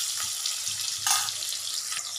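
Chopped onion frying in a pan for a home-cooked fish curry, a steady bright sizzle with a short louder flare in the middle, close and continuous with no talking.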